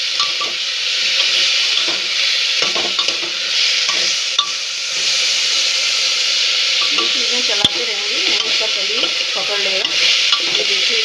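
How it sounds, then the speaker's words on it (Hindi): Onions frying in a cooking pot while a spoon stirs them toward golden brown, with a steady close sizzle broken by repeated scraping and clinking strokes. "प्याज को हम भून लेंगे, इसको गोल्डन ब्राउन कलर करेंगे"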